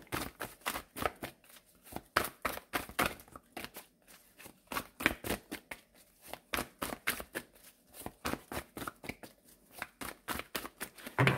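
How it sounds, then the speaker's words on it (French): A deck of cards being shuffled to mix them: a long run of crisp, rapid riffling and flicking bursts in an uneven rhythm, close and clear, with no talking. "je vais bien les mélanger pour ne pas retomber sur les mêmes cartes"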